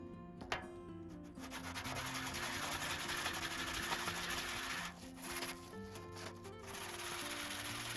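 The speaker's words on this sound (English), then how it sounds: "I'll move on to hand sanding for more control and precision." Steady rhythmic rubbing strokes of hand sanding a silver cross pendant, close and continuous, with a brief pause before the scraping resumes.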